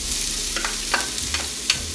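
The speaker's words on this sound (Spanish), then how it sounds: "Ponemos en el fuego un sartén con aceite, ya está bien caliente. Ahora le vamos a incorporar lo que es la cebolla, bien picadita." Finely chopped onion frying in a pan of hot oil, a dense close sizzle with a few light stirring clicks across a short stretch.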